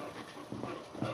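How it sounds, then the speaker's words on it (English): Dogs in a weaving room with a loom being warped, giving low, soft panting or snuffling sounds close by, steady through the moment with no talk. "Sorry for the dogs."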